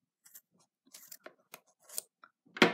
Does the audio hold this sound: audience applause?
no